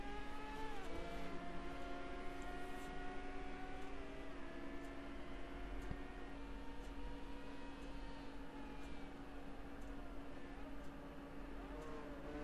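Arrow McLaren IndyCar racing engine in a racing video game at the Indianapolis GMR Indy Grand Prix, a steady sustained high-pitched drone with rising gear-change tones, continuous throughout under background noise.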